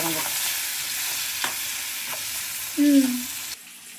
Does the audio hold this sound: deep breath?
no